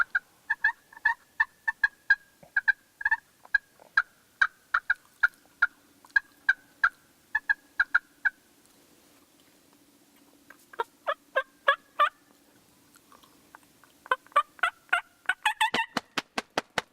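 A turkey call imitating a hen's fly-down produces a long run of clucks and yelps, steady at first, then a quicker, denser burst ending in rapid wing-like flutters, all close with no speech.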